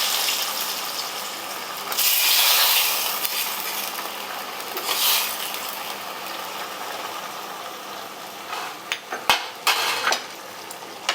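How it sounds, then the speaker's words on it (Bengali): A ghee and black mustard seed tempering poured into a besar curry and stirred: bursts of hissing sizzle, then scraping, ratcheting strokes of a spoon against the pot, close and without voices. "ঘি আর কালো সর্ষের ফোড়নটা এর মধ্যে দিয়ে দিলাম"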